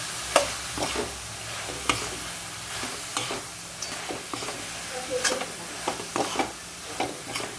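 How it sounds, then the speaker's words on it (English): Bori being stirred into a banana flower curry in a pan, a soft continuous sizzle broken by repeated scraping stir strokes at an uneven rhythm, close and fairly quiet, no talking. "I am adding bori and mix it well."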